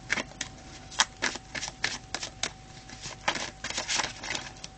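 Tarot cards being shuffled in the hands, a rapid series of crisp riffling bursts and soft papery flutters repeating irregularly, close and fairly quiet with no voices.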